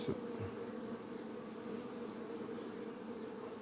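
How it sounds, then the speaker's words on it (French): Honey bees returning to the hive in growing numbers in the evening as ivy starts to flower, a steady close buzzing hum with no talk. "là, on voit que les abeilles, elles commencent à rentrer de plus en plus"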